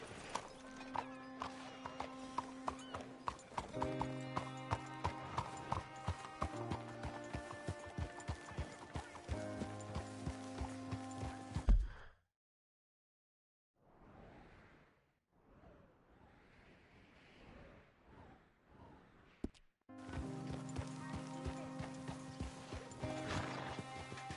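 Horse hooves clip-clop in the Red Dead Redemption 2 video game, a steady rhythmic gait heard alongside tonal game music for about twelve seconds, then a quieter stretch with scattered soft sounds before the music and movement return.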